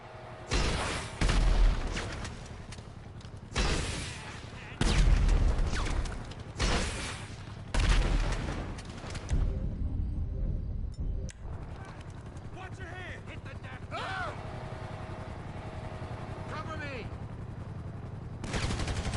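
Heavy gunfire in GTA 5: several loud bursts of automatic shooting come in clusters, close and punchy, then thin out into scattered distant shots, with a player talking over it.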